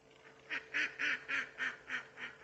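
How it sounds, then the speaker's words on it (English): A duck lost inside a pen quacks about seven times in a steady rhythmic series, each call short and nasal, fairly close and alone. "one of our ducks has got lost inside the pen"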